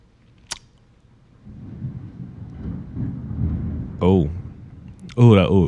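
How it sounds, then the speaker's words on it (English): Rolling thunder during a thunderstorm, a low rumble building and sustaining for several seconds with a sharp crack near the start; someone talks over it near the end. "Oh, big thunder, big lightning."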